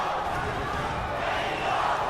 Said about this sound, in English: The chants of Mexico ringing out from the crowd